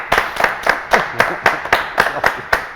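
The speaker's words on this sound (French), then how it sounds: "applaudissements pour Matt." Audience clapping for a guest on a French talk show, a string of sharp, fairly evenly spaced claps from a small group over about three seconds, with no talk on top.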